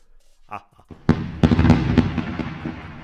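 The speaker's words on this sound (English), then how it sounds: "You deserve a fireworks show." A fireworks burst sounds out: a few small pops first, then a series of loud cracking bangs with crackling that trails off and echoes, close and prominent over three seconds.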